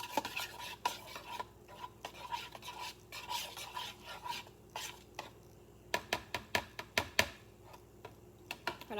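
A utensil beats eggs for an omelette in a bowl with quick, rhythmic clicking taps. The taps start light and scattered and grow into sharper, faster strokes near the end.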